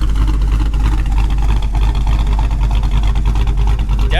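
A Dodge Dakota truck with a full Hellcat exhaust idles with a deep, steady, choppy burble. It is loud and close and holds constant throughout, with no voices.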